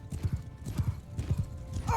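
Galloping horse hooves from a cavalry charge in the Bannerlord battle game, a quick rhythmic thudding close by, ending in a sharp neigh.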